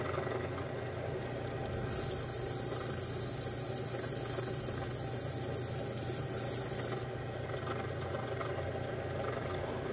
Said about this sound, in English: I'm cutting away a significant amount of opal